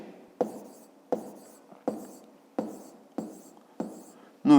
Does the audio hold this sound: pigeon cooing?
no